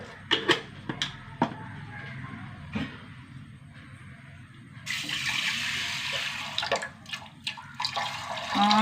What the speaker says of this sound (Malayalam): ആവശ്യത്തിന് വെള്ളം ഒഴിച്ചു കൊടുക്കുക